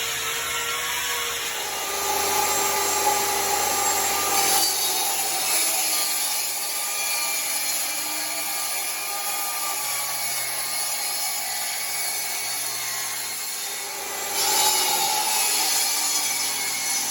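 Plywood is sawn for a sheep feed bunk. A steady, continuous cutting noise stays close and fairly even throughout, with slight changes in pitch and a brief shift in tone partway through, and no voices.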